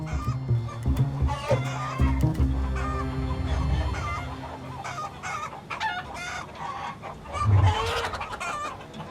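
Hens cluck and squawk repeatedly in short bursts, close by and fairly loud, with a brief louder call near the end.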